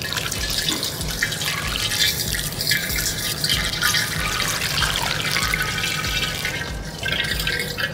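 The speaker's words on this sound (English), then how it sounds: "We'll get 2 gallons of cold water into our fermenter." Two gallons of cold water rush loudly and steadily into a homebrew fermenter, a close, continuous splashing pour that stays constant throughout with only a slight dip near the end and no speech.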